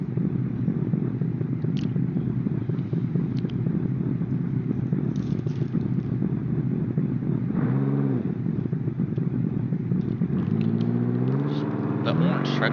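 Screamer monster truck engine roaring steadily on a dirt arena track at a night USHRA event in Greensburg, Pennsylvania, a loud continuous rumble that revs up near the end, with an announcer talking over it.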